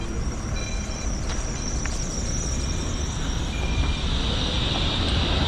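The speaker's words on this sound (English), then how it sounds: "There's the modern tram." A modern tram rolls past on a street in Sofia, Bulgaria, a steady close rumble with faint high wheel squeals, heard alone without talk.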